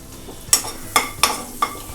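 Cinnamon, cloves, cardamom and fennel drop into melted butter, producing a soft, steady sizzle broken by four sharp metallic clinks of a spoon against the pan.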